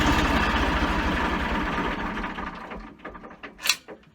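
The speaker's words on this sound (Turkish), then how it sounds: "isterseniz traktörümüzü bir stop edelim" A Fordson Dexta tractor engine idles with a steady low diesel rumble, then is switched off and runs down over about a second, leaving near silence with a few faint clicks.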